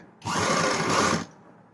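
A sewing machine stitching fabric for a blouse, running in one steady, loud whirring burst of about a second that stops abruptly.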